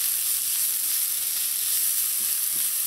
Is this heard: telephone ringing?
no